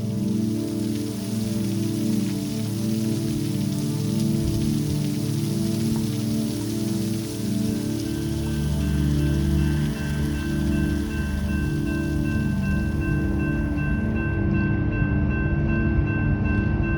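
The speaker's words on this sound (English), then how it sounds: "At least it didn't rain inside." Steady rain falls on a surface as a dense, continuous patter, with a low rumble and a faint tone running underneath.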